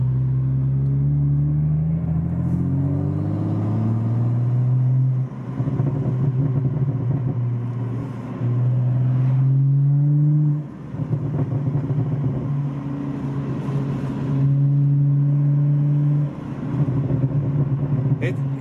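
BMW with an MHD burble tune idling and blipping: a low, soft exhaust burble with rising and falling engine tones in several swells, close by, with brief popping crackle between revs.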